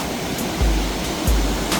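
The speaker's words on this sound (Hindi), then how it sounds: "इधर ही है फॉल, ये देखें जी, वो उधर से आती है और मेरे ख्याल से सबसे तेज़ी से पानी इधर ही है, सबसे बड़ा ड्रॉप।" A Cornish waterfall roars close by in a broad, steady rush of falling water, with low wind buffets thumping the microphone now and then.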